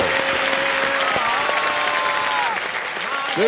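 A studio audience at a TV quiz show claps in a dense, sustained burst, loud and steady, with a host's voice and musical tones sounding over it.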